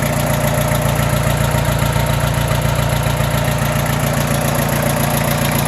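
A Mitsubishi MT1801D 4x4 compact tractor with a 4-cylinder engine idles steadily and smoothly, a loud, close, continuous low rumble with an even pulse and no speech.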